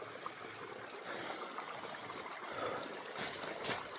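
Spring water runs out of the side of a mountain along a trail, a steady soft trickle and gurgle that holds at low level throughout, with no voices.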